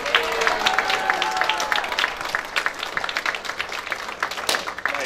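Audience applause at a talent show, a dense patter of many hands clapping fairly loudly and steadily, with a voice and some cheering mixed in over the clapping throughout.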